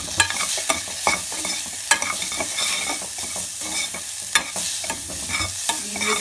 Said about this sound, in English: And now I'm gonna mix this well together